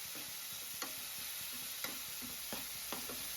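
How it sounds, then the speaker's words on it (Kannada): Spicy tomato masala fries in oil in a pan for tomato bath, a continuous hiss of sizzling broken by occasional sharp clicks and scrapes as a spoon stirs the pan. "ಎಣ್ಣೆ ಬಿಡುವವರೆಗೂ ಇದನ್ನ ಫ್ರೈ ಮಾಡ್ಕೊಂತಾನೆ ಇರಬೇಕಾಗುತ್ತೆ"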